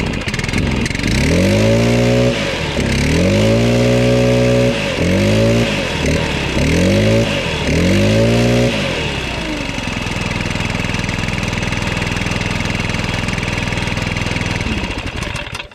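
A Stihl BR800 or Echo 8010 backpack blower engine revs hard about five times in quick succession, each rev rising and falling in pitch, then settles into a loud, steady idle close by.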